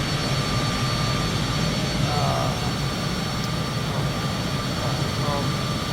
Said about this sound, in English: The sound of the plane.